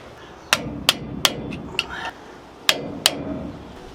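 Sharp metallic hammer strikes bending over the locking tabs of an outer rear axle bearing nut on a 1966 Ford F250 two-wheel drive; six distinct blows in two irregular clusters, close and ringing, with no talk.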